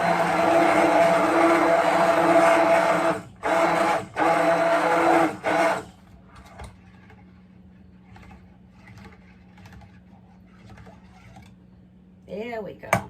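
A blender whirs loud and steady as it mixes dandelion soap, cutting out briefly a few times before it stops; a voice speaks in the quieter stretch that follows.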